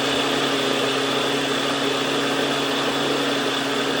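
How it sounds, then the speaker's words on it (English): A mixer grinder runs steadily throughout, grinding soaked rice into fine, smooth appam batter with a loud, continuous whirring drone and no pauses. "Grind it until it becomes very smooth and fine batter."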